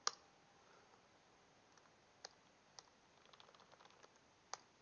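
Typing on a computer keyboard at a desk, heard as sparse, quiet clicks and taps spread unevenly across a few seconds, with a brief cluster of keystrokes near the end and no talking.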